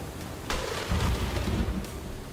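Thunder in the video game Limbus Company: a sudden broadband crack followed by a low, heavy rumble that rolls on for about a second, loud and close with no voices.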